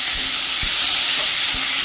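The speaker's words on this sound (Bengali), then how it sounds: "পেঁয়াজ থেকে আলু ভাজা হচ্ছে" Sliced potatoes fry with onions in hot oil, giving a loud, continuous close-up sizzle with a few faint low knocks of stirring.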